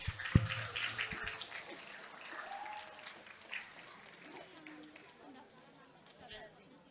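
Audience at a literacy seminar in Semarang, Indonesia, claps for a questioner: a burst of applause in the first seconds that thins quickly into scattered clapping and room murmur, with voices talking over the fading sound.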